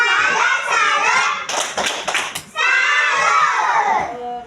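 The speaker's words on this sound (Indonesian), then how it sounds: "Kita beri tepuk salut" A primary school class gives a rhythmic salute clap, a short burst of quick hand claps in the middle, framed by children's loud chanting voices before and after.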